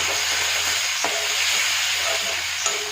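Dried fish rubbed with salt and turmeric fries with garlic in a pan, giving a continuous close sizzle with faint stirring clicks; no one speaks.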